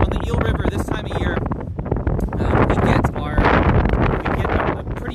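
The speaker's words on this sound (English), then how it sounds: "That's one of the reasons it might be a little bit hard to hear me, as we get these gusts of wind." Strong spring gusts of wind on the Eel River in Humboldt Redwoods State Park buffet the microphone in loud, rumbling bursts, with a voice partly audible beneath the blustery noise.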